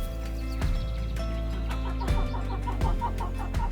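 Chickens on a Demeter farm cluck and chatter close by in short repeated bursts, with several birds calling over a steady low background.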